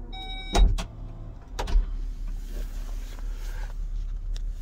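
Power liftgate on a 2022 VW Atlas Cross Sport SEL Premium R-Line in Pure Gray, giving a couple of short motor whirs and a soft thud near the start, then a steady low hum, close and fairly quiet.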